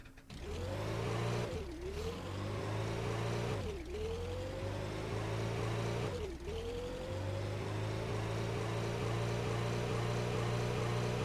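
A racing car's engine in the Brick Rigs building game with a normal engine and four gears, droning loudly as it accelerates, revs climbing then dropping at three gear shifts, steady and close.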